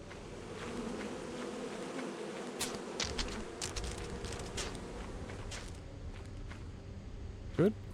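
Bees buzz from a hive carried around in a video game, a continuous insect drone with scattered clicks and footstep-like taps, mixed with game sounds and a short sharp sweep near the end.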